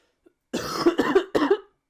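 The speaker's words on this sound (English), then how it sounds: "I have a bad cough, so I apologise" Three short, harsh coughs in quick succession from a person with a bad cough and sore throat, close and fairly loud, with a tiny click just before them.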